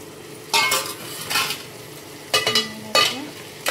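Tomatoes sautéing in a pan, with four bursts of stirring and scraping over a steady low sizzle, each scrape bright and close.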